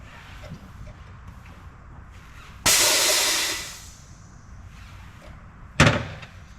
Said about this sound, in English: We're gonna let the air out of this canister here